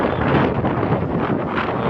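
Constant roaring wind in dusty weather at Halvad buffeting the microphone, loud and broadband with no voices.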